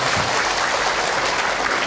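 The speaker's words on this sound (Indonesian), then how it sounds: "Tepuk tangan dong buat yang bertanya, Teteh." A loud, dense burst of audience clapping at a religious talk, sustained evenly for a couple of seconds and heard alone without speech.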